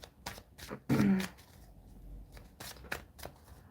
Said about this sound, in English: I'm just doing a little shuffling over here, though.